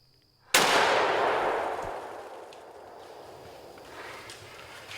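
A single sharp, loud gunshot fired at a bear during a hunt in the Michigan woods, with a long echoing decay that fades into quiet outdoor ambience.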